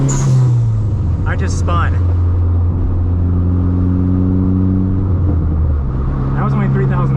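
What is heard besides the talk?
Dodge SRT-4 car revving, engine at 3,000 RPM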